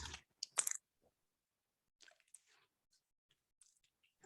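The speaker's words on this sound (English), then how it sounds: "Can you hear the cracking sound?" Wibbly wobbly slime pressed by hand gives a burst of close, wet crackles and squishes at the start, then sparse small pops and clicks trail off into near silence.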